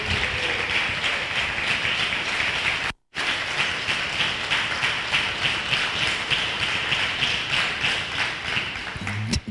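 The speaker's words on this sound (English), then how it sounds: "Give him a round of applause to Ray Haysbert." A lecture audience claps steadily for a speaker at a talk, dense sustained applause that cuts out for an instant and then continues evenly to the end.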